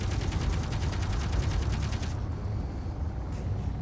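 Rapid gunfire from an aircraft strafing run in a survival video game, a dense rattling burst of repeated shots for about two seconds that then cuts off, leaving a low rumbling engine-like drone.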